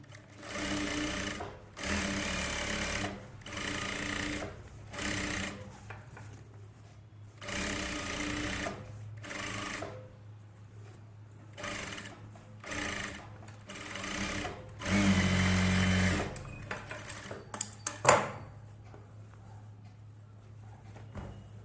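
A sewing machine edge-stitches the lining of an Aari work blouse in repeated loud bursts of rapid clattering, separated by short pauses, and finishes with a few sharp clicks.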